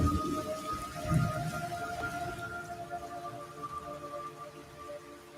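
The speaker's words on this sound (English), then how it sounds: "It's raining blood." Steady rain falls in the video game Metal Gear Solid 3: Snake Eater, a soft, constant patter at low volume, with a low rumble near the start and faint tonal hums underneath.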